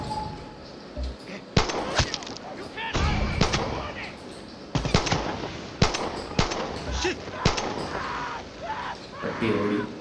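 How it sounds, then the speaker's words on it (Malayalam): Gunfire from new guns in the video game Far Cry 6: a string of sharp, loud shots scattered irregularly across the clip over a steady wash of in-game background sound. "പുതിയ തോക്കിലൊക്കെ ഒന്ന് വെടിവെച്ച് നോക്കാം"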